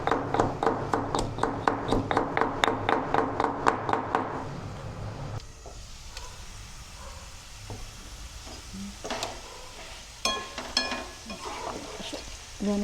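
Aloo fry, fried potatoes in a pan, stirred until crispy: a run of rhythmic scraping stirs over a steady sizzle, then quieter frying with occasional taps and clinks.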